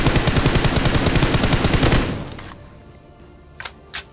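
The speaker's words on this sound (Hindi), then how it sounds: "यहाँ पे गलती से इन भाई साहब का हमने टायर फोड़ दिया" Sustained automatic gunfire from a battle royale shooter, rapid evenly spaced shots for two seconds at a buggy driving past, bursting one of its tires, then fading into quieter game ambience with two short sharp noises near the end.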